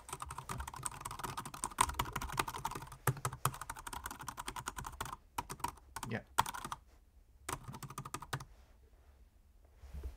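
Typing on a Jelly Comb Bluetooth keyboard used with a Mac Mini M1 produces rapid, close key clicks in steady bursts, thinning to scattered taps and stopping near the end.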